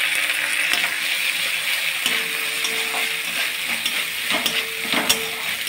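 Garlic and ginger paste sizzles steadily in a pan over a low to medium gas flame, a loud continuous frying hiss with occasional scrapes and taps of a spoon stirring it, no speech.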